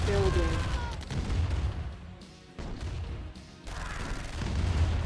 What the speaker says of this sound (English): this flame unit is going to town on these Grens